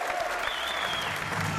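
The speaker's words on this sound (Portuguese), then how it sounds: "um aplauso merecidíssimo para o Hélio" Studio audience clapping briefly on a TV game show, a dense steady patter of hands at moderate level with a faint voice underneath.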